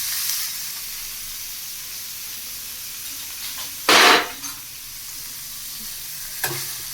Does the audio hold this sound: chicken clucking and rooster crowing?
no